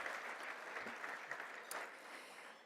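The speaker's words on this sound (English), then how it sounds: "Yes, an applause for that." Applause at a national leadership luncheon plenary, a continuous, fairly distant patter of many clapping hands from a crowd, holding steady and fading slightly at the close, with no talk.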